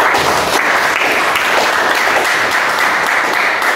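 A school classroom fills with loud, continuous applause from students, many hands clapping together in a dense, even wash with no speech on top.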